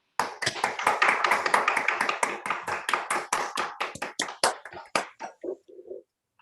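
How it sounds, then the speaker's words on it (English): Audience applause after a mathematics talk on abelian varieties: a steady burst of hand clapping from a small group, loud at first, then thinning into a few slower, scattered claps before stopping. "let's give her another round of applause"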